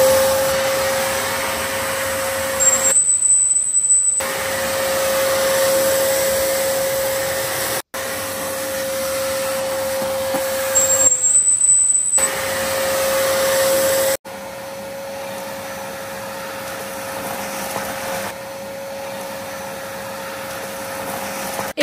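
Wet and dry vacuum cleaner running with a steady, loud, high whine, briefly cut off and restarted, then continuing at a slightly different pitch, with no talk.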